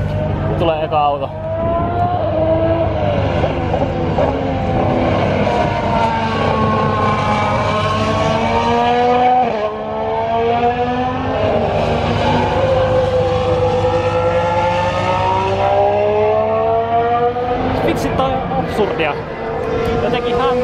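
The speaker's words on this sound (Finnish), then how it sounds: "Tulee eka auto." Formula 1 cars race at the Barcelona circuit, engines whining and rising in pitch as they pass one after another, loud and continuous, with people talking nearby.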